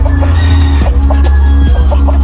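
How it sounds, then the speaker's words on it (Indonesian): A fighting rooster clucks and calls repeatedly, close and loud, over a constant low droning hum. "Meg akhirnya nekat mencuri ayam aduan milik Samuel"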